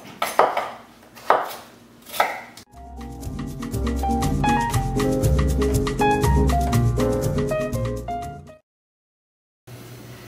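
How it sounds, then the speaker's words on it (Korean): A kitchen knife chops potatoes for jjajangmyeon, three loud, close thuds in the first few seconds, then bright melodic music takes over before a short silence. "감자를 아주 그냥 다져 놓으시네요"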